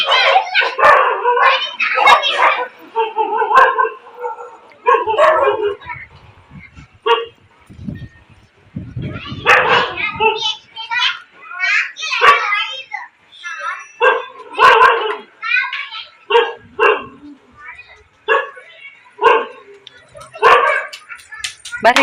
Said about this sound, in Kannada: ಯಪ್ಪ ನಾಯಿ